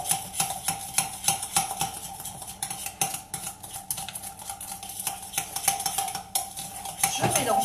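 Chocolate chip and walnut cookie dough being mixed in a bowl: rapid, rhythmic clinks and scrapes of a utensil against the bowl, close and steady with no talk.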